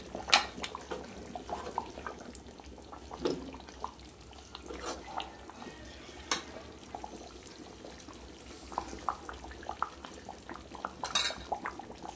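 Fish curry is ladled from a pan into a serving bowl, giving scattered light clinks and scrapes of metal utensils against cookware, fairly faint and spread over several seconds.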